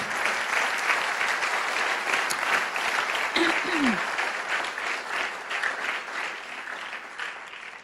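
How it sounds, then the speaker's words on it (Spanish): A church congregation claps together in sustained, steady applause that fills the room, loud and even from start to finish, with a few voices mixed into the clapping. "dale un fuerte aplauso al Señor"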